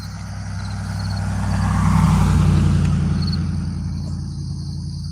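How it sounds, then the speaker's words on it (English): A car approaches along the road and passes close by, its engine and tire roar swelling to a peak midway then fading away, with insects chirping faintly in the background. "Damn it, fucking cars."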